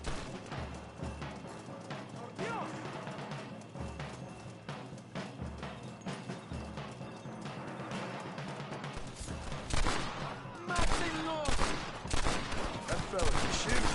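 Gunfire in the Western video game Red Dead Redemption, a long fusillade of sharp rifle and pistol shots in irregular bursts, some near and some distant, building louder toward the end with occasional voices.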